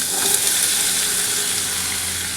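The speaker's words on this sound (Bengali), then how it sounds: "তার জন্য আমি একটুখানি প্রথমে কড়াইশুঁটি আর আলু, আমার তেল গরম হয়ে গেছে, আগে আমি একটু ভেজে নিচ্ছি" Green peas and potato pieces fry in hot oil in a kadai, producing a steady, even sizzle that holds throughout with no voices.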